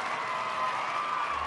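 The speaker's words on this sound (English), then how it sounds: "big round of applause going out to all those riders finishing on the podium here tonight" A crowd at the Endurocross Round 2 event in Reno, Nevada claps for the podium finishers. The applause is a brief, steady, distant patter.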